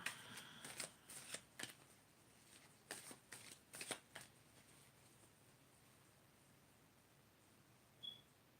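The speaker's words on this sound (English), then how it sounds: "I'm shuffling right now." A deck of cards is shuffled close by, with quick riffling bursts and soft flutters in two clusters, followed by quiet with a faint tap near the end.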